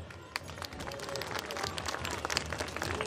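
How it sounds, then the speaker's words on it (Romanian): Festival audience at the Jianul festival in Dărmănești applauding, dense steady clapping filling the space with crowd noise throughout. "Să-i aplaudăm!"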